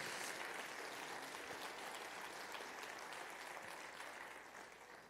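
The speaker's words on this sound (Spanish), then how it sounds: "Dale un aplauso fuerte al Rey de Reyes." Steady, dense clapping from a church congregation fills the whole stretch, holding loud and even before easing slightly at the end.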